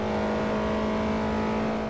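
A Toyota Celica ST205 engine in Forza holds a steady, high revving drone close to the rev limiter. The pitch stays level and loud for the whole stretch with no speech.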